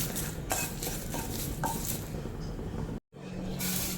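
Curry leaves frying in a pan while rasam powder is prepared, a steady close sizzle with scattered stirring clinks and a brief dropout near the end.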